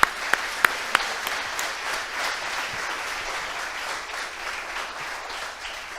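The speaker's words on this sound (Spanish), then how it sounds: "Recibimos con un fuerte aplauso a Martín Correa" An audience at a tech demo day event applauds steadily, with a few sharp individual claps at the start, and the clapping carries on throughout at moderate volume.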